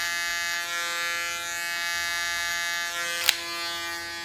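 An electric hair clipper cutting hair behind the ear gives a steady, close, even buzz that runs unbroken throughout, with one brief sharp tick near the end.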